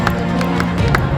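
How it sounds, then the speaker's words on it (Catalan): A basketball crowd at a Valencian tournament event claps and cheers in a loud, busy burst, with scattered claps standing out over a dense crowd roar. "Un fort aplaudiment, per favor."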